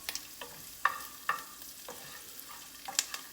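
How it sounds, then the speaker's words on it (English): Cashews stirred in hot bacon grease in a pan, a few scraping spoon strokes and light clatter over a faint, low sizzle, close but quiet. "we're going to stir this around, get the bacon grease coated all around the peanuts or the cashews"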